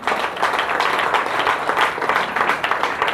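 An audience breaks into loud, dense applause for a professor, continuous crowd clapping that stays strong throughout with no talk over it.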